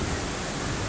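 Steady broadband roar of surf and sea breeze on Anyer Beach near Cilegon, a constant even wash with no voices.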